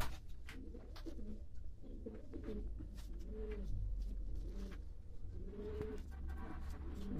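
Pigeons coo inside a coop with several low, overlapping burbling calls repeating throughout, close and moderately loud over a steady background rumble.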